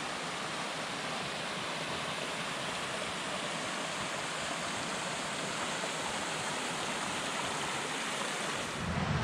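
The Bâche mountain stream flows in a continuous broadband rush of water, steady and fairly close, with no talk or other sounds.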